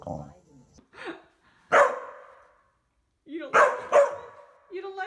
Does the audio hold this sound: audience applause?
no